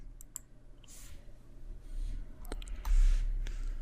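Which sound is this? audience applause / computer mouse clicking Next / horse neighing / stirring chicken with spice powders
computer mouse clicking Next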